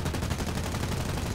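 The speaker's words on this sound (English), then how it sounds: "Where is my fantastic sound on my MG 151s?" MG 151 machine guns in the War Thunder flight game fire a rapid, continuous rattling burst at a steady level, with no other sound over it.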